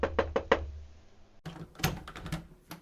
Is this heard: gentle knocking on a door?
yes